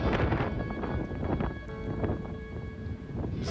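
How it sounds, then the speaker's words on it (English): Wind blows hard on the Las Vegas Strip, buffeting the microphone with a steady, rumbling roar and faint traffic and city sounds beneath. "back out into the wind on the strip"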